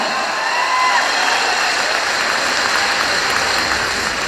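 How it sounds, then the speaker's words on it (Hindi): A large audience at a motivational network-marketing seminar bursts into sustained, dense clapping, loud and steady throughout with a faint crowd murmur beneath. "तो तालियां ऐसे नहीं, हाथ उठा के बजाओ, जानदार तालियां"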